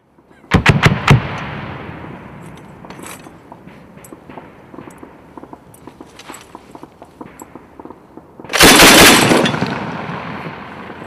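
Mk 19 grenade launcher firing on a range: a quick burst of three or four sharp, heavy reports at the start, scattered clanks and mechanical handling in between, then a loud roaring blast near the end with a long tail.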